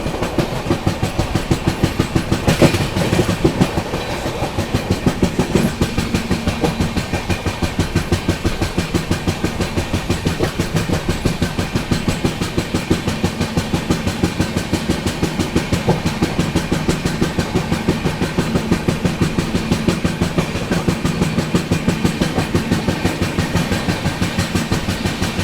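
Suhaildev Superfast Express running on rails toward Prayagraj, heard from inside a first-class AC coach: a steady, continuous rumble with rhythmic wheel clatter throughout, loud and close.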